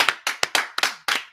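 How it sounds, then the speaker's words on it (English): A small group claps at the end of a class, with sharp, close, fairly sparse claps in an uneven rhythm. "Clap it up, guys. Clap it up."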